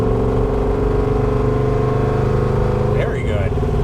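A 1985 GMC Jimmy fitted with a 5.3 V8 idles loud and close, a steady deep rumble that holds constant before a brief dip near the end.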